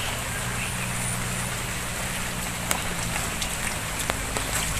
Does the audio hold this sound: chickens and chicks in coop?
no